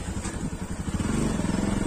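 A motorcycle with a loose silencer, ridden on a road in Nepal, runs with a steady, throbbing engine note and a rattly, uneven exhaust that grows slightly louder and steadier toward the end.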